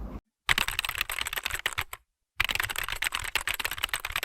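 Keys clatter in quick, uneven bursts on a computer keyboard as a teacher types out a line of a children's poem, close and clear, with two brief silent pauses and no voices.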